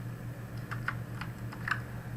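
Hands type on a computer keyboard, producing a handful of light, irregular key clicks over a low steady hum, fairly quiet and with no talking.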